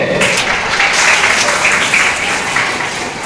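Applause from a crowd of students and guests at a kindergarten association award ceremony in Chittagong, a loud dense burst of clapping that continues throughout, with faint voices beneath.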